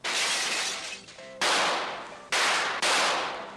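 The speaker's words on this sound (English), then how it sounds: "Pulling out his gun, Baretta braced himself and jumped through the skylight." Skylight crashing in a radio drama: a loud burst of shattering glass, then a second and third heavy crash in quick succession, harsh and close, each decaying into a hissy wash.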